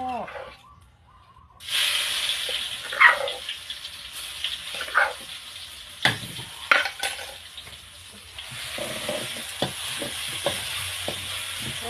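Holy basil stir-fry sizzles loudly in a hot wok while a utensil scrapes and stirs at irregular moments, with a hissing fry continuing throughout.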